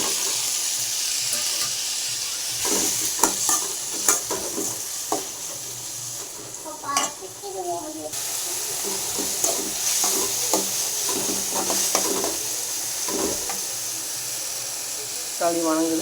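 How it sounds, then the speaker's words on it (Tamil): Tomato sautéing with onions in a pan for tomato rice, a continuous low sizzle broken by repeated clinks and scrapes of a spoon, with some speech in between. "தக்காளி வதங்குது."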